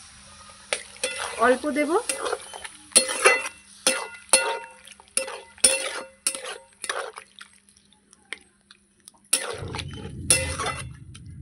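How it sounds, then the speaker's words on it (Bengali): Water poured into a pan of frying shrimp and mushroom, a sudden hissing sizzle near the end after stirring and clattering utensil scrapes, with brief talk. "এবার জল দিয়ে দেবো।"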